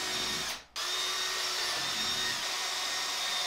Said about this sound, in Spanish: Voy a agujerear la madera.